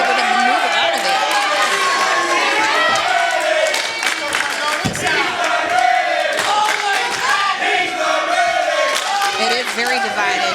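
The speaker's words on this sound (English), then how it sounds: "the crowd singing, "You're not ready."" A large wrestling crowd sings a chant during an NWA Worlds Heavyweight Title match between Matt Cardona and Trevor Murdoch, a dense, continuous roar of many voices filling the arena with no pauses.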